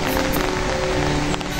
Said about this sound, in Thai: ฝนตกแบบอย่างหนามากๆเลยค่ะ